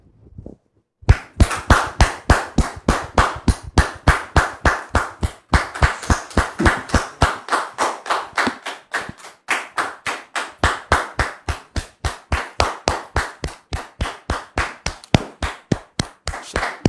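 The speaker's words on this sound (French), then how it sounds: "je voudrais vous demander de recevoir sous vos applaudissements" An audience applauds to welcome a visitor with rhythmic, steady clapping in a regular beat, loud and close, continuing for about sixteen seconds with no talking over it.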